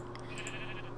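Sheep bleating in the Minecraft video game, one short bleat that is faint in the mix and heard alone without voices.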